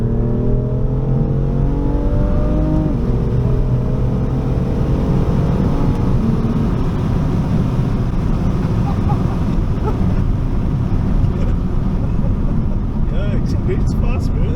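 A 2019 BMW M4 Competition accelerating hard on an open road, its engine note rising through gears with a sweeping pitch climb early on, then a loud sustained roar mixed with wind rush.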